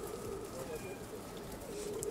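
Pigeons coo softly in a breeder's loft, including white fighting pigeons, a low steady murmur of cooing under faint background noise at moderate distance.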